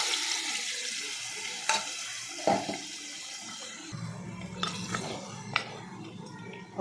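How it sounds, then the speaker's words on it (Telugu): Mutton pieces hitting hot oil in a fried onion-tomato paste for curry, giving a steady close sizzle broken by several sharp spoon clinks and scrapes against the pot, with no voices. "ఇప్పుడు మటన్ ముక్కలు వేసేసుకోవాలి."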